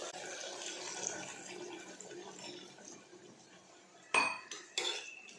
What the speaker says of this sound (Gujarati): આપણે તેની અંદર પાણી નાખીશું